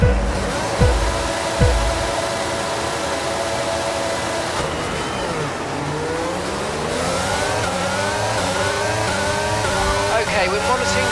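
Formula 1 race cars in the F1 22 racing game rev and accelerate as they return to the grid before the race start, a continuous loud engine drone with rising and falling pitch sweeps and several overlapping cars throughout.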